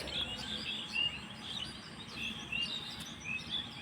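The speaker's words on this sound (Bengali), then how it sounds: "সেই সাথে পাখির যে মিষ্টি মধু আওয়াজ" Small birds call near green rice fields at harvest, repeated thin high chirps and short whistles at a moderate distance over a quiet outdoor hush.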